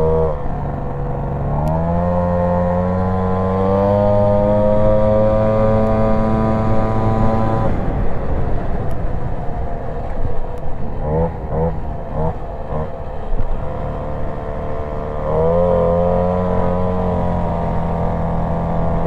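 A 50cc moped with a 45mm Airsal kit runs rich, its carburettor still untuned. The loud, buzzy two-stroke engine holds a steady note, drops to a rougher idle with a few short blips, then rises again.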